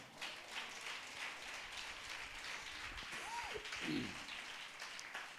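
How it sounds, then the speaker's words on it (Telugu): A church congregation at a Sunday worship service claps together in a dense, sustained burst of applause that keeps an even level for several seconds, with a few brief tonal sounds rising briefly above it. "గట్టిగా చప్పట్లు కొట్టాలా?"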